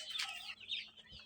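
Sick, listless chickens on a rooftop give a couple of faint, close clucks in a very brief moment.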